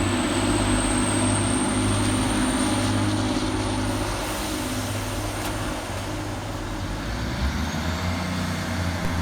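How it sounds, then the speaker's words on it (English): Class 185 TransPennine Express diesel unit pulling away from Mirfield station on the far platform, a steady, fairly loud engine drone with low humming tones that hold and shift slightly as it departs, no voices. "Departing over on the far side is 185137, working the 1748 Transpennine Express service from Manchester Piccadilly through to York"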